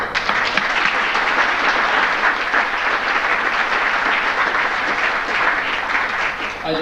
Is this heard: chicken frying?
no